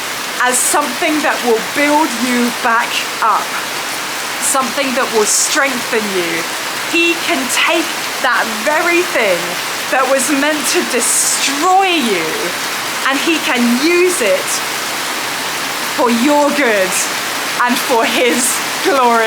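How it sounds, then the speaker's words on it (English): Heavy rainy-season rain in Liberia, a dense steady hiss of downpour running continuously beneath a man preaching close to the microphone. "I'm sorry about the rain."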